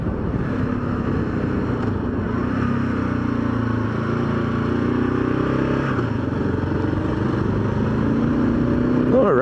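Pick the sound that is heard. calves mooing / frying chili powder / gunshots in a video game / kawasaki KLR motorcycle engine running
kawasaki KLR motorcycle engine running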